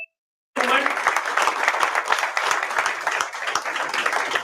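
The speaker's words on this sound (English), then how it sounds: "So huge round of applause." Conference audience applause, many people clapping dense and steady after a brief silence, filling the hall loudly for several seconds with no voice on top.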